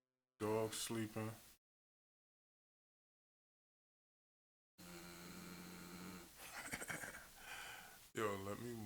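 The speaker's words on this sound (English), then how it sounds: "I had my dog in here snoring." A sleeping dog snores indoors in bursts of rough, throaty sound, with a long silent gap between them and a steadier stretch of breathy noise.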